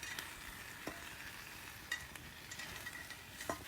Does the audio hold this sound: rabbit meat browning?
yes